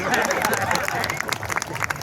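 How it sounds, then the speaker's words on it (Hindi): Audience clapping at a Hindi kavi sammelan poetry gathering, a short burst of crowd applause mixed with voices. "ताली कमजोर है आप लोग।"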